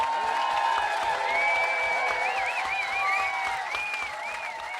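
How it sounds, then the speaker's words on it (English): An audience at a festival speakers' forum applauds and cheers for a speaker. The clapping is dense and sustained, with whistles and whoops rising over it, and it eases slightly toward the end. "let's have a huge bloody gut cheer for Lowkey!"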